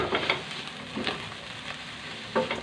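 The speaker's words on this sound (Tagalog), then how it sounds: "gigisahin na naman ulit natin yan mabuti para mawala yung lansa" Fish sautéing in a pan for an Ilocano dish, a steady close sizzle of frying oil punctuated by a few scraping stirs of a utensil against the pan, with no talk.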